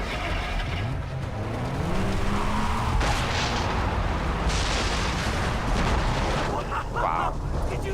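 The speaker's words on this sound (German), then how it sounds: "Did you see that explosion?" Loud booming explosions in the video game Far Cry 3 burst over a rumbling engine-like background, with a couple of heavy blasts in quick succession.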